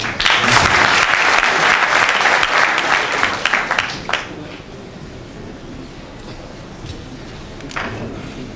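Audience applause at the close of the first Ivorian diaspora forum, after its final recommendations are read: dense, loud clapping from a large crowd that fades to a thinner scatter of claps toward the end.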